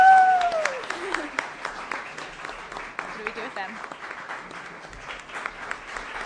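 Audience clapping at a church fall retreat gathering, a dense roomful of applause sustained throughout, with voices talking and calling out over it at the start.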